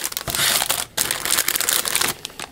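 Plastic bag holding Gundam Exia Master Grade model kit parts crinkles and crushes loudly and continuously up close, with one brief pause partway through.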